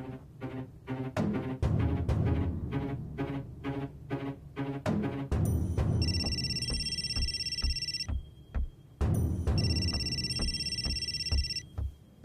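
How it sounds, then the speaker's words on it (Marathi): A phone rings indoors in a Marathi TV drama scene: two electronic ringtone bursts sound over steady background music and noise, each lasting a few seconds with a gap between them. "कोणाचा फोन आहे? देविकाचा ना."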